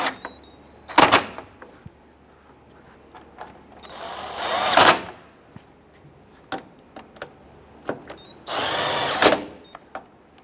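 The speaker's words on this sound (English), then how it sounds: "Now when we tighten these down, you have to be very careful not to over tighten it and crack the plastic" A power drill drives screws into the plastic of a 1999-2004 Jeep Grand Cherokee during an AC condenser replacement, with three short whirring bursts that stop as each screw bottoms out, separated by small clicks and handling noises.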